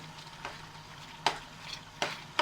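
A spoon stirs thick chilli chicken gravy in a pan, giving a few distinct scraping strokes over a steady low sizzle, close and moderately loud.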